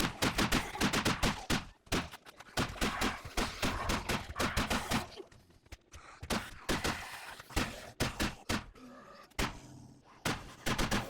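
Rapid shotgun blasts in the survival game 7 Days to Die during a nightmare horde attack on a stilt base, loud close reports fired in quick irregular bursts with brief pauses, a few sharp thuds among them.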